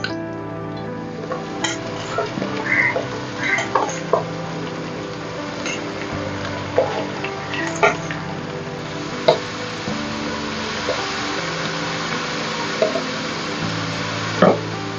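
Onion frying in a pan alongside green chillies, with a soft sizzle under frequent scraping and clinking of a spoon against metal and background music throughout.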